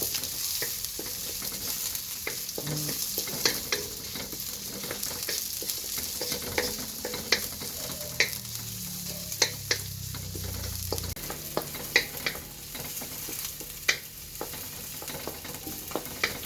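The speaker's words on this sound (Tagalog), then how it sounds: "Kailangan natin magka uh, caramelize ang sibuyas." Onions caramelizing in a pan, a steady sizzling fry with frequent sharp scraping clicks of stirring throughout, moderately close and without talk.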